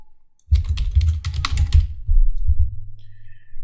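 A burst of quick keystrokes on a computer keyboard while entering a server name, a close, crisp cluster of clicks over a low hum that continues after the typing stops.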